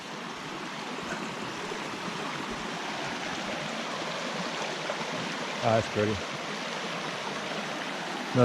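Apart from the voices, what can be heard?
creek water flowing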